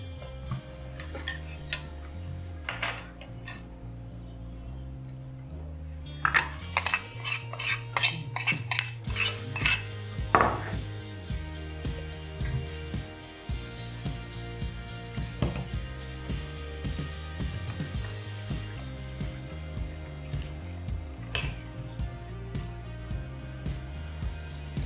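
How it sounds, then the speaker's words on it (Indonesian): Sugar being stirred in a pot to dissolve it while making ongol-ongol cake, with a utensil repeatedly clinking and scraping against the metal, busiest in the middle stretch over a steady low hum. "Sekarang saya mau melarutkan gulanya."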